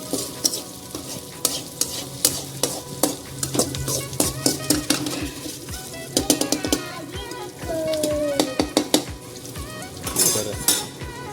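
Onions and chillies fry in a pan with a steady sizzle as a utensil repeatedly scrapes and clinks against the metal, in quick irregular strokes, close and fairly loud, with a few brief background sounds.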